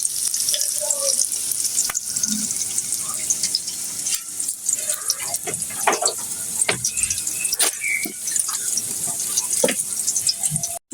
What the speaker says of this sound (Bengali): এই তো পেঁয়াজটা ভাজি হচ্ছে।